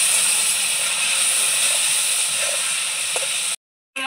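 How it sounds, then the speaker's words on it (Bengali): Spices frying in a pan for a hilsa fish oil curry, a steady close sizzling hiss with a faint clink near the end before a brief cutoff. "এবার মশলাগুলো ভালো করে কষিয়ে নেবো।"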